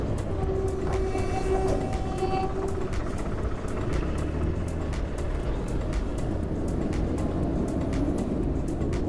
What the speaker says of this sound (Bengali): এক সাইড দিয়ে ট্রেন যাচ্ছে